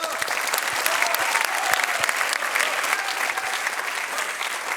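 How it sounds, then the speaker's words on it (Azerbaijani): A studio audience at a televised singing competition breaks into dense, sustained applause, steady and loud from start to finish with no pauses. "Ona görə də sizə alqışlar."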